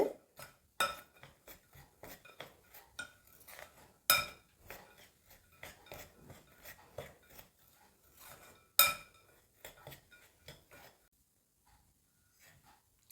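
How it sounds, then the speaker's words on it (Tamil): A spoon clinks and scrapes against a bowl while the sweet somas filling is mixed by hand, a string of light, close metallic taps and knocks at an irregular rhythm with quiet gaps between. "எல்லாத்தையும் ஒன்றோட ஒன்று சேர்கிற அளவுக்கு கலந்து விட்டுக்கொள்ளுவோம்"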